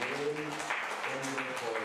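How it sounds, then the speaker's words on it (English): Audience applause at an evening church empowerment session, a steady wash of clapping running the full two seconds beneath a voice that keeps talking or singing over it. "let's have a applause for"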